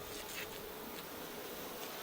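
Dense, continuous droning of many honey bees at an open hive during a honey inspection, a steady close hum with no voices.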